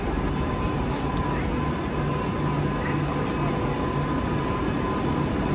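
A train at Warsaw railway station rumbles and hums steadily and loudly throughout, a continuous mechanical drone with faint higher squeaks above it.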